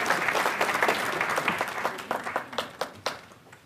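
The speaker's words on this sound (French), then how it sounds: "On applaudit M. Joseph Peter de la bière dégosée." Festival crowd applauding a local beer producer at a Maitrank celebration, steady clapping that holds for a few seconds then thins into scattered, sharper claps as it fades.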